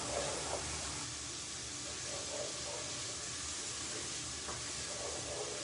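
Fish heads sizzling and frying in hot oil in a pan, a steady close hiss and crackle running unbroken throughout, with no talk.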